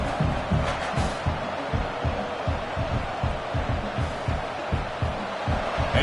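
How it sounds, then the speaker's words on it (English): Stadium crowd cheering in College Football 26, a steady roaring wall of crowd noise with rhythmic pulsing, moderately loud, and a commentator's voice faintly under it. "This crowd is trying to inspire this defense to make a big red zone stop."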